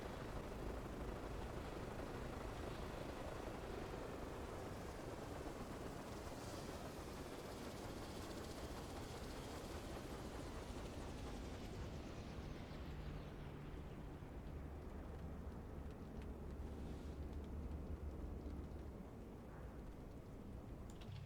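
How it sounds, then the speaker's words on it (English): A helicopter's rotor blades wind down in a video game, a loud broadband whooshing roar that slowly loses its high end and settles into a lower rumble over about twenty seconds, with no talking. "Let the blades come to a stop"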